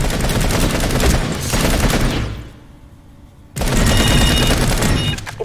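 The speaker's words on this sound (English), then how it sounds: "Try shooting some targets using hip fire." Hip-fire gunshots in Planetside 2, loud rapid automatic bursts close up, a dense burst, a brief pause, then another sustained volley.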